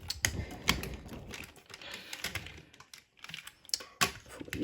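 Plastic Kenner MASK toy parts snap and click into place in a quick, irregular series of sharp little taps, close-up and fairly quiet, with no talking.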